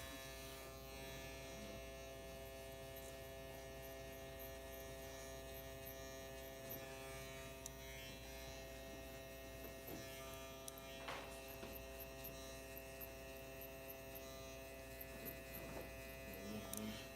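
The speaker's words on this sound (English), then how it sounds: "I'm going to take the clipper in the open position." Exceed hair clipper with an Echo Crunch blade, set to the open position, running with a steady close electric buzz and hum that holds evenly throughout, with faint small clicks on top.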